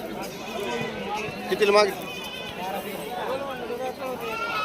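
Goats and kids bleating at a busy rural livestock market in Shirur, Pune district, with one louder nearby bleat rising briefly over steady chatter and people talking.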